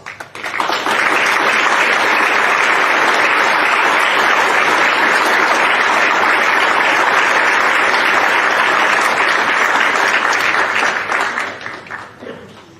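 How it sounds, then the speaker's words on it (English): Loud, sustained applause from graduates at a University of Maryland Global Campus commencement ceremony in 2022: a dense roaring wash of many hands clapping that swells in quickly, holds steady for about eleven seconds, then fades away. "please give yourselves a round of applause"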